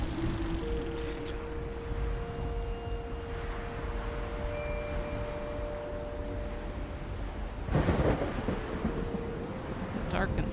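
A thunderstorm in a video game level: a steady roar of wind and rain runs throughout under sustained musical tones, broken near the end by a sudden loud crack of thunder.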